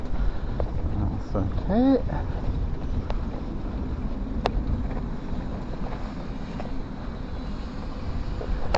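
Wind buffeting the microphone while riding a shared bike through a city on a clear day, a constant low rumble with brief rattles and a passing squeak, and someone speaks briefly.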